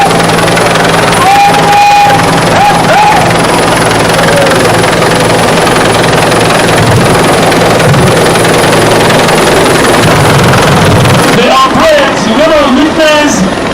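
A police helicopter flies over an outdoor police day ceremony in Abuja, its loud steady rotor and engine drone filling the scene, with a rising shift in pitch near the end.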